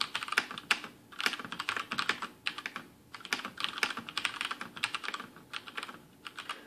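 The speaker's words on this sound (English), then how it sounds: "So this is typing without bottoming out." A Rosewill tenkeyless mechanical keyboard with Cherry MX Brown switches is typed on steadily without bottoming out, producing rapid, crisp, close-up clicks in uneven bursts with brief pauses.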